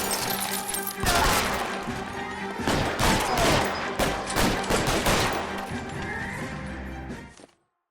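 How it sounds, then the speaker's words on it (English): Gunfire in the video game L.A. Noire, with dense bursts of shots and crashing impacts in a busy, loud mix and voices partly audible underneath. "Oh, we're shooting."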